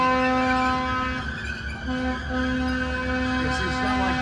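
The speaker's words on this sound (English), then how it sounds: "There goes the train." A freshly painted Long Island Rail Road locomotive passes at a railroad festival, a steady mechanical drone with strong tonal harmonics and low rumble, fairly close and continuous.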